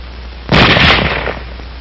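A single rifle shot cracks loudly and closely from a small-arms weapon, with a short burst followed by a quick decaying tail over a steady background hiss.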